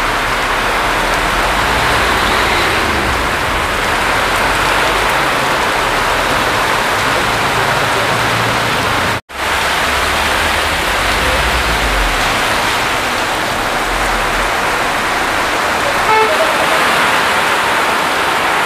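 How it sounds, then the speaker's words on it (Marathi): Heavy, steady rain roars loudly and continuously, with a brief dropout partway through, and no voices over it. "पाऊस जोरदार आता आलेला आहे."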